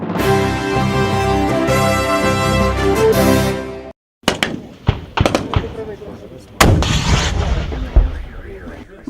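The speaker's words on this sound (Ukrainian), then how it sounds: "а вже за кілька хвилин вибухи, гарматна черга, стрілкові залпи" Explosions, cannon bursts and rifle volleys from a military drill: a sustained loud roar first, then a short silence, followed by a series of sharp, close blasts and cracking shots with rumbling decay.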